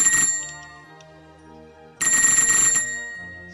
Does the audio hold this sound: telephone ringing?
yes